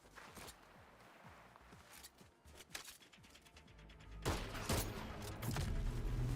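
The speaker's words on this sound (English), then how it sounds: "I got 2 shots off." Gunfire in the Fortnite video game sounds as scattered, fairly faint shots and clatter at varying distances, with a louder burst of bangs near the end over game background noise.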